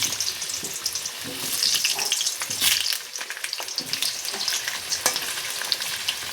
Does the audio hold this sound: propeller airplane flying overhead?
no